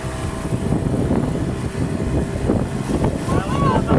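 Two-stroke boat engine running steadily and fairly close on a new motor, a continuous low rumble with wind buffeting; people talk under it.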